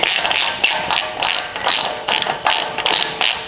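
A ratchet spins the inner wheel bearing nut on a 100 Series Land Cruiser front hub, giving close, loud rhythmic clicking ratchet strokes, about eight of them in steady succession.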